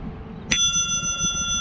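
Bicycle bell on a touring road bike, rung once with a bright, sharp strike and a sustained metallic ring that fades slowly over soft road and wind noise.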